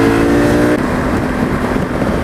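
Honda Africa Twin motorcycle pulling hard after a downshift, a loud, continuous engine roar with a brief shift in pitch early on, heard alone.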